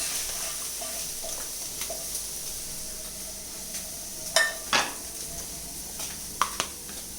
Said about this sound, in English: Now I'll just switch off the gas and just take all the veggies into the plate.